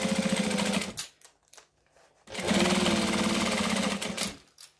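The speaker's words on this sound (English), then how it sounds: "So I'm going to start up this end, but not on the curve, and start stitching around." A sewing machine stitches a bag in two loud, steady bursts of rapid whirring, separated by a short pause with faint handling clicks, and a brief stop near the end.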